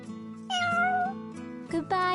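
Cats meow while being played with, several clear, drawn-out meows in quick succession, close and fairly loud, with quiet background music underneath.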